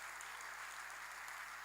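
Steady applause from a church congregation during a sermon by Bishop Albert Rugamba, a dense, even wash of clapping held at a fairly low, constant level throughout.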